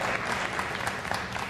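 A business-talk audience bursts into brief, dense applause that continues steadily at moderate volume throughout.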